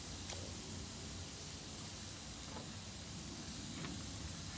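Tri tip beef searing directly over charcoal on a Weber grill, a constant broad hiss at moderate level with a few faint pops and crackles, no voices.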